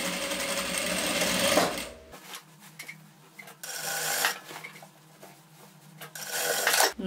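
A sewing machine stitches a seam on a blazer in short bursts, its whirring run stopping and starting between pauses, close up with faint handling rustles in the gaps.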